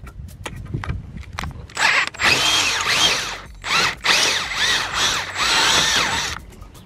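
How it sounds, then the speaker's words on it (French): A power drill driving in the first bolt of a solar panel mount on a camping-car, several loud whirring bursts rising and falling in pitch, broken by brief pauses and preceded by lighter clatter, close by with no talking. "On fixe le premier boulon."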